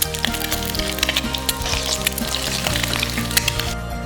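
An egg frying in hot oil, its edges turned crisp, with a dense continuous sizzle and crackle, loud and close, alone with no talk.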